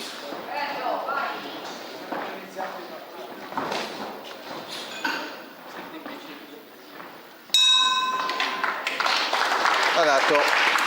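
A round-end gong bell rings out at a charity boxing night in Cagliari, a loud metallic clang near the end that cuts over crowd noise and an excited commentator.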